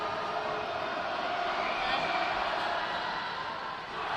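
Loud, sustained crowd roar fills an indoor arena at a high school varsity basketball game, HSE vs Zionsville, a broad wash of voices and shouting that stays steady throughout.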